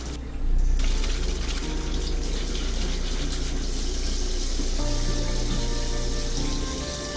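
Tap water runs steadily into a sink as an apple is washed under it, a continuous close splashing gush lasting throughout with a slight shift in tone midway as the stream hits the fruit.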